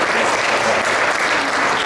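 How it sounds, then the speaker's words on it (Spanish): Loud, steady applause from a congregation at a quinceañera mass, a dense continuous clatter of clapping hands filling the whole moment with no voices on top. "Fuerte aplauso para María."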